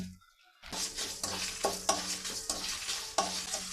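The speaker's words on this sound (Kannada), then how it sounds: "7-8 ಬ್ಯಾಡಿಗೆ ಮೆಣಸಿನ್ಕಾಯಿ ಇಟ್ಕೊಂಡು ಅದನ್ನು ಹಾಕ್ಕೊಳ್ತಾ ಇದ್ದೀನಿ ಹುರಿಯೋಕ್ಕೆ." Byadagi chillies and black sesame seeds dry roasting in a pan: after a brief quiet start, rhythmic stirring scrapes and light crackling repeat steadily and close by, with no voices.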